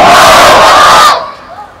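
A large crowd at an outdoor religious gathering in Mirpur roars the Nara-e-Takbir chant in unison, one loud, sustained shout that cuts off and fades into a faint echo.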